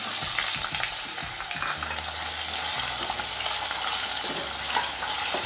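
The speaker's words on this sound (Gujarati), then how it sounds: "બે ત્રણ મિનિટ આમાં છે ને તેલમાં ને સાતળી લેવાના બટેટા વટાણા" Potatoes and peas sautéing in hot oil with curry leaves, asafoetida and turmeric, a continuous close sizzle with repeated stirring scrapes and clicks throughout.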